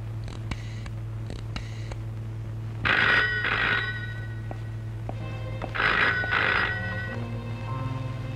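An old landline telephone rings indoors in two clear bursts of shrill bell trills, each about a second long, with quiet pauses and a steady low hum between them.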